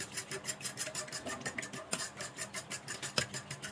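Rhythmic scraping and rasping of a fork mixing flour and water into dough in a bowl, repeating in quick even strokes with a couple of sharper knocks.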